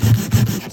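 Sandpaper rubbed against a guitar bridge in short, close, scratchy back-and-forth strokes, about two or three passes in under a second.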